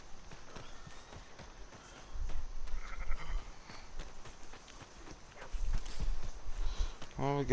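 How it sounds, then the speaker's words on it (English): Merino sheep bleat faintly on a farm in Red Dead Redemption 2, mixed with clip-clopping hooves, footsteps and game ambience, with a few soft calls standing out. "Merino sheep."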